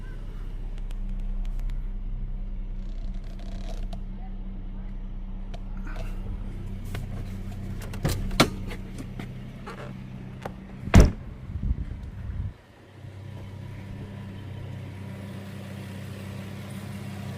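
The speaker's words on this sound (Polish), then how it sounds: "Silniczek sobie chodzi, mruczy." A Renault Vel Satis with a 3.5 litre V6, damaged in a collision, idling with a steady low hum while a few clicks and a door thud sound nearby, before the engine note drops.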